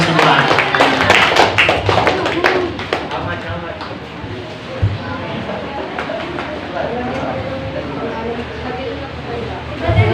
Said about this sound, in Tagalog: Lahat ang pinagbala, pumalakpak sa ating dakilang Diyos ng buhay.